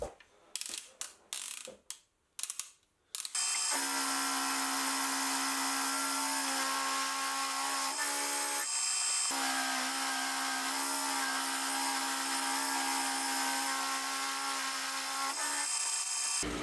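A milling machine's roughing end mill cuts the fixed jaw of a two-piece vise under coolant, a steady, loud, whining grind with tonal harmonics that runs continuously after a few short starts, with a brief dip partway through.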